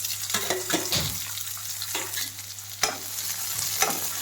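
Onions frying in hot oil with steady sizzling, stirred repeatedly with a utensil that scrapes and clicks against the pan; close, fairly loud, no talking.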